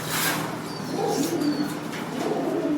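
Racing pigeons coo in a loft, with several low, rolling calls overlapping steadily and close by, over a faint background hiss and no talking.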